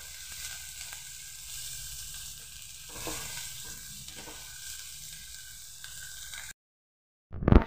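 Chopped onions sizzle in a pan, a moderate, continuous crackle with a few stirring scrapes, then a short silence and a sudden loud clatter at the end; nobody speaks.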